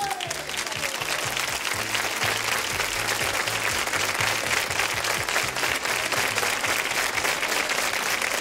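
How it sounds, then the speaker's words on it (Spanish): A television studio audience at a copla music show applauds loudly and continuously, dense clapping filling the room throughout, with faint music underneath. "¡Un fuerte aplauso!"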